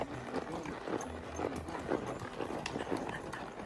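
Horse hooves clip-clopping on a trail ride in Wyoming bear country, a steady rhythmic series of fairly faint, close hoof beats over soft outdoor background.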